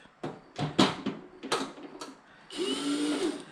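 Several short bursts of an impact driver whirring on and off as it drives screws during cabinet assembly, followed by a longer steady motorized whine, close up.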